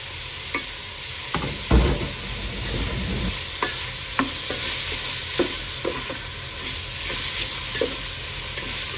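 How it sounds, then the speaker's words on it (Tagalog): Shrimp sautéing with coconut milk and jackfruit in a pan, a constant bubbling sizzle with repeated scrapes and knocks of stirring at a steady rhythm, close and fairly loud, no talking. "igisa lang natin ng konti"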